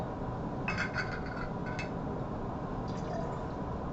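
Deionized water is poured and swirled in a glass Erlenmeyer flask during rinsing, with soft liquid trickles and gurgles and a few faint glassy clinks, close and quiet.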